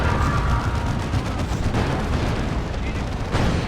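Basilisk artillery fire from Imperial Guard forces in Warhammer 40,000: Dawn of War 2 sounds as dense, loud battlefield rumble, with repeated booming blasts and crackling impacts running throughout and a sharp burst near the end.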